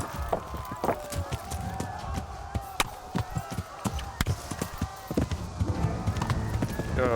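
Horse hooves in the video game Kingdom Come: Deliverance, irregular clopping strikes near and sharp, with a clear run of trotting beats toward the end and someone speaking over them.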